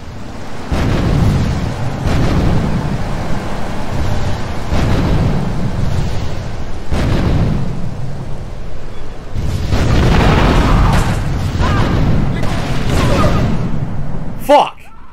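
Rocket launcher blasts in Grand Theft Auto 3 boom out repeatedly, a series of heavy rumbling explosions with a sharp final burst near the end, under ongoing game noise and a talking voice.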